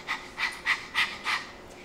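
A voice imitates a dog's rapid panting, five quick breathy puffs in an even rhythm, close and clear, mimicking the short breathing used during childbirth.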